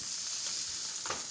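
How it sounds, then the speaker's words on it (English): A soft, steady sizzle of meat dry frying in a pan, with a brief stirring scrape near the end. "So you have to dry fry your meat for a little while."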